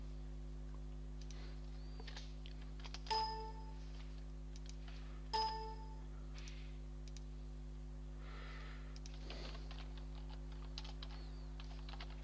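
Faint keystrokes on a computer keyboard as text is entered during software setup on Ubuntu Linux, sparse and quiet over a steady electrical hum, with two brief chime-like clicks in between.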